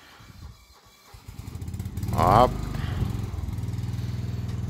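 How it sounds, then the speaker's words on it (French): A tractor engine drives in close by, its loud, steady chugging rumble building and then settling into a regular throb, with a short spoken word over it. "il rentre le tracteur là maintenant"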